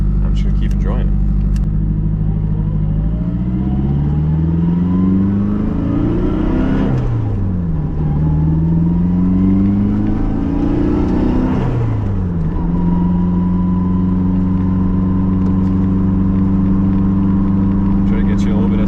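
Nissan 240SX with an SR20 engine and a Magnaflow catalytic converter exhaust, heard from inside with the window down: a steady low drone that climbs through two strong revving pulls before settling back to a constant cruise.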